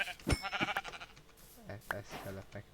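Sheep in the Minecraft video game give a few short bleats, near and clear, amid a player talking over them.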